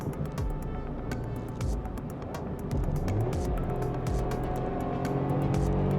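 A 2024 Maruti Suzuki Dzire with an AMT gearbox downshifting in manual mode, its engine droning steadily and rising in pitch and loudness partway through, heard from inside the car with no talking.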